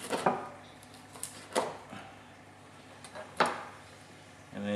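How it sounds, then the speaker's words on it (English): A knife slices straight across the crispy skin of roast pork belly, giving a few sharp, crackly crunches spaced irregularly and heard close up. "Just cut it straight across. You can hear that skin is quite crispy."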